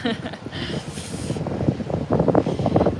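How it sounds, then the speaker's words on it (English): Steady rumbling wind buffeting the microphone, with low gusty noise throughout and a brief hiss partway through. "I hope you guys can hear me, it's a bit windy"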